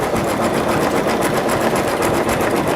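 An embroidery machine stitching its final stitches into a towel, a fast, steady, close mechanical whirring and rattle that runs without pause.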